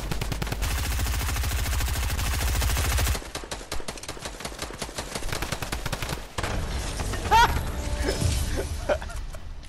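A Midas drum gun in Fortnite fires a fast, even stream of shots at close range, then gives way to sparser bursts and scattered game effects.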